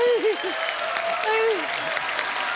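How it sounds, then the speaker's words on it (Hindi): Studio audience of The Kapil Sharma Show comedy program clapping steadily, with a voice speaking over the applause. "जोरदार तालियां नानी की आंखों के लिए।"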